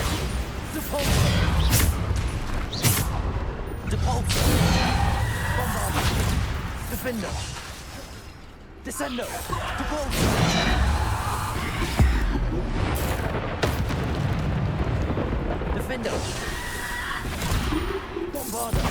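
Combat spells fired in the Hogwarts Legacy video game: a rapid series of magical whooshes, blasts and crashing impacts, loud and continuous, under a player's voice shouting spell names.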